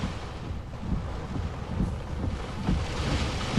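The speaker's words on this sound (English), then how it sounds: "we pulled over a bit just so you guys could see how strong these wind gusts are" Strong hurricane wind gusts drive rain across a roadway near coastal communities, a constant loud roaring buffet of wind battering the microphone in surging waves, with no voices.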